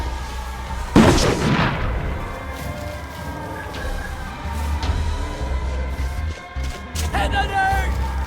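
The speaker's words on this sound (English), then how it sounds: "They're bombing us again!" Bombing in the video game We Happy Few: a heavy blast rings out early, followed by a sustained rumbling barrage, with excited voices shouting over the explosions.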